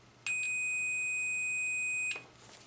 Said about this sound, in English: And we'll just make sure that this beeps.